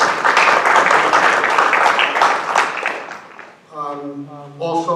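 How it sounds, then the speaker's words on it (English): An audience at a school district board of education public session applauds for students in a short burst of clapping that tapers off, followed by a voice speaking. "just a round of applause for those students"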